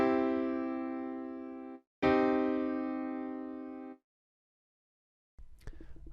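Two sustained chords, a major triad then a minor triad, ring out on a piano-like instrument, each held about two seconds and slowly decaying, followed by a brief stretch of silence and a faint noise at the end.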